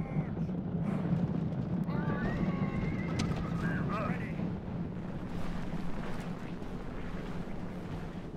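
Cavalry horses of mounted skirmishers in the Total War strategy game, Fourth Age mod, battling in the Westfold: a loud neighing whinny rises over rumbling hoofbeats and battle din, while someone talks over it.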